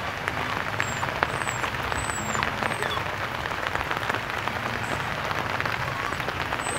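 Heavy rain pours steadily onto a flooded vegetable garden during flood season, a dense, even hiss of drops with faint high chirps in the background.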